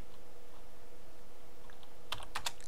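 Typing on a computer keyboard, entering an equation into graphing software, comes as a short burst of a few sharp clicks near the end over faint background hum.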